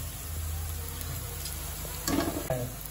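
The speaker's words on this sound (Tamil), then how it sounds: "வெங்காயம் இந்த கலர்ல எண்ணெயில பொரிக்கணும்." Onions fry quietly in hot oil for pulao, a soft steady sizzle with a few brief stirring clinks.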